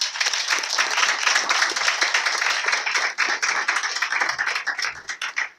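Applause and clapping from a congregation at a deliverance service, dense and steady for several seconds before thinning into scattered claps near the end.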